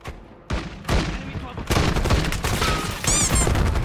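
Gunfire in the video game Call of Duty: Black Ops 6, a dense run of sharp shots and bursts with booming impacts, loud and close, with a voice talking in between.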